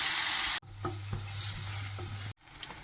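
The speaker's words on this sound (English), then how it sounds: "Now we're going to add our celery and onions into a pan, which is in a medium flame, with a little bit of oil." Celery and onions frying in a little oil in a pan over a medium flame, a steady sizzle with a few light stirring clacks, close and alone, starting just after a loud burst of hiss and ending in a brief dropout.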